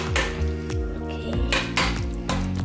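A utensil stirs pork with Penang curry paste in a pan, making repeated close scraping and metallic clinking strokes in a steady rhythm.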